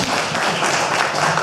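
An audience claps at a degree celebration, a dense, loud burst of many hands that stays steady throughout with no talk over it.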